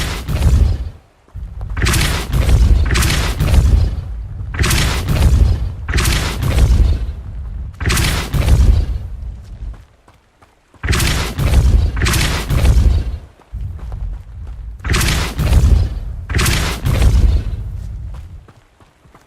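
Repeated force spell blasts from Depulso in the video game Hogwarts Legacy, a series of loud, close booming bursts arriving in clusters with short gaps between them.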